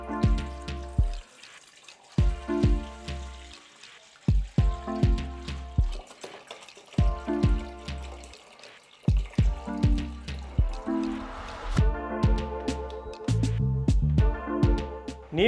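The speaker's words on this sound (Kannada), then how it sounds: "ಒಂದು 5 ಕಪ್ಪು ನೀರು ಹಾಕ್ಕೊಬೇಕು" Water splashing and trickling into a cooking pot for boiling, in repeated intermittent pours with drips and short pauses, close and moderately loud.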